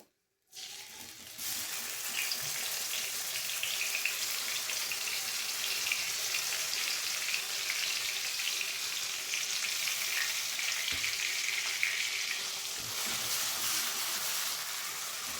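A paste of onion and green chili sizzles in hot oil in a pan, a bright, continuous frying hiss that starts suddenly and holds steady at moderate loudness, with no one speaking.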